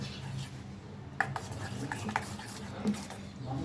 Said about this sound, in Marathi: त्या पिठामध्ये ओतून घेऊया आणि हे मिश्रण सर्व छान असं हलवून घेणार आहोत।